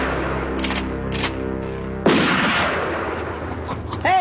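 Gunfire in a comedy sketch setting, heard as loud sharp bursts with a strong report around the two-second mark followed by rumbling decay and scattered crackle, no voices.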